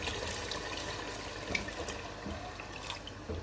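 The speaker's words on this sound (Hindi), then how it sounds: "अब मैं इसमें ऐड कर रही हूँ जो हमने यखनी निकाल के रखी हुई थी, वो ऐड कर रही हूँ।" About a liter of beef stock (yakhni) poured into a pot of nihari, a soft continuous trickle and splash of liquid with small drips, fairly quiet and close.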